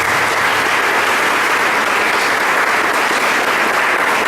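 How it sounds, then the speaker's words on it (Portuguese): Congregation at a Sunday Mass applauding mothers, a broad, sustained wash of many hands clapping in a church, loud and even throughout with no speech on top. "Uma salva de palmas para as nossas queridas."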